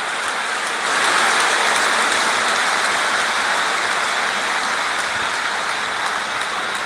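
A stadium crowd in the Real Cricket video game cheering after a big hit: a steady, dense roar that swells at first, then holds at an even level without a break.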